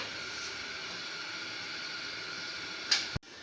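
A pressure cooker holding meat and water gives a steady, even hiss of escaping steam throughout, rising into a brief louder burst before cutting off abruptly.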